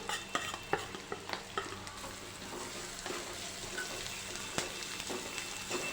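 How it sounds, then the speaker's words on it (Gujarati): Chopped green onions fry in a pan with curry leaves and onion while a spoon stirs, giving steady soft sizzling broken by repeated light scraping clicks against the pan, close and fairly quiet, with no talk. "હલાવી લઈશું થોડો કલર બદલાય ત્યાં સુધી આપણે તેને થવા દઈશું"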